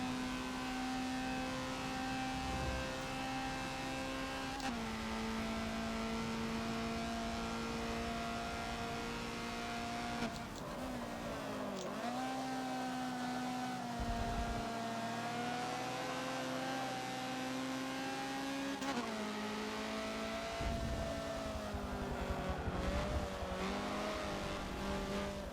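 A Honda CRX in the Forza racing game at Mugello holds a loud, sustained engine howl at full throttle, with the pitch dipping and climbing through gear changes and corners.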